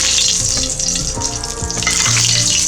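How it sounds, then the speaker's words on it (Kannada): Loud, continuous hissing sizzle with crackling bursts as hot oil tempering is poured over a kosambari salad, steady throughout with no talking. "ಈಗ ಈ ಒಗ್ಗರಣೆನ ನಾನು ನೀಟಾಗಿ ತೆಗೆದು ಸುತ್ತ ಹಾಕ್ತಾ ಇದ್ದೀನಿ"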